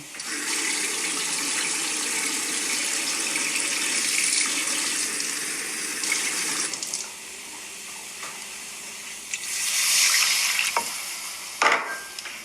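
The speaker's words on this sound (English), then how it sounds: "Add some water in there now." Water pours steadily into a pan of chicken tikka masala sauce with salt and fenugreek, hissing and splashing for several seconds, then quieter stirring and sizzling follows.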